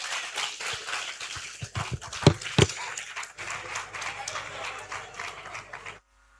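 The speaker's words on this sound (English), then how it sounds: "Clap for yourselves." An audience at a business capacity-building forum applauds in dense, continuous clapping mixed with shouts and crowd voices; a few sharp claps stand out before the sound cuts off abruptly.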